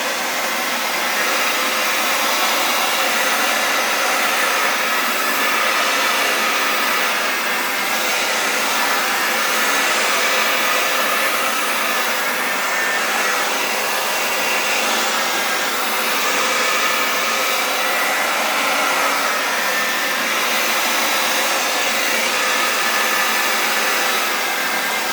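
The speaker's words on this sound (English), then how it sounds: "I don't want the hairdryer, I think" A hairdryer blows steadily on wet acrylic pour paint, a loud continuous whooshing roar that runs unbroken and close with no speech.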